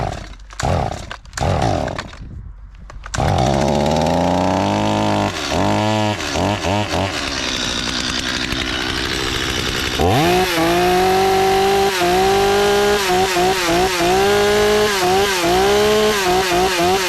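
A flooded chainsaw sputters through a few rough, uneven bursts, then catches and runs loud and close, its engine whining up and down through repeated revs.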